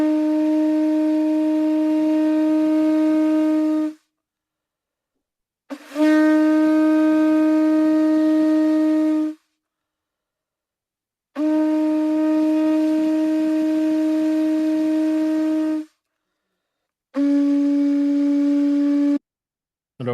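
A conch shell trumpet blown in four long, steady, loud blasts separated by short silences, each a sustained rich horn-like tone with strong harmonics.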